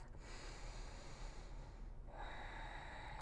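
A deep breath drawn during a yoga stretch: a soft, airy inhale and exhale close up under low background hiss, with no talking.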